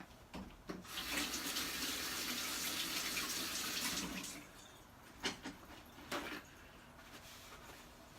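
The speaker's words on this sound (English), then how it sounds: "let me wash my hands real quick" Hands are washed under a running kitchen tap: a steady, close rush of water pours for about three seconds, then stops, followed by a few short splashes and drips.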